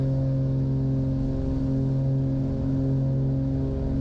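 Twin aircraft engines holding steady at full power during the takeoff roll of a rescue flight from South Eleuthera, Bahamas, a loud continuous droning hum with strong steady tonal bands, close and unbroken.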